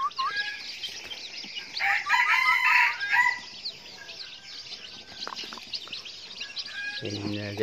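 Domestic chickens clucking and calling nearby, several bright bird calls scattered over the clip, with a loud burst around two seconds and a harsher squawk at the end, a voice speaking between them.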